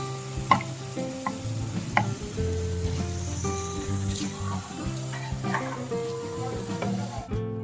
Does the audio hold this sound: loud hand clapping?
no